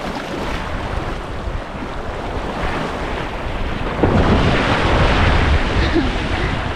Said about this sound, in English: So this is Bamboo Beach.